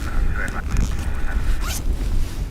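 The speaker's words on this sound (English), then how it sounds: "Yes, you're hearing zips." A bag zipper is pulled open or shut in short rasping strokes close to the microphone outdoors at an airport, with wind and low rumble underneath.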